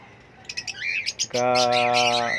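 Pet grey parrots calling close by, a quick run of sharp chirps and whistles followed by a loud, buzzy, harmonic squawk held for about a second, with no talking.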